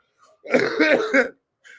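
A single close, loud cough burst with a brief throat-clearing rasp, preceded and followed by faint vocal sounds.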